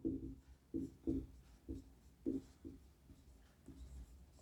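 Marker or chalk writing on a board during a class 12 physics lecture, a series of short scratchy strokes in an irregular rhythm, close and fairly quiet with no talk over them.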